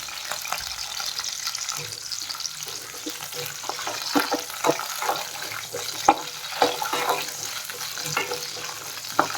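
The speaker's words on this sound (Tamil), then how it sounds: "எண்ணெய் சூடாயிடுச்சு. வெங்காயம் மட்டும் ஃப்ரை பண்ணிட்டா போதும்" Small onions frying in hot oil in a pan for a jackfruit-seed curry, a soft steady sizzle with scattered crackles and pops, fairly quiet and close, no talking.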